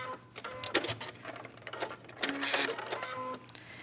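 Domestic sewing machine stitching a mitered seam along a marked line, with a steady mechanical whir and rapid ticking that pauses and restarts in short bursts, fairly close and moderately loud.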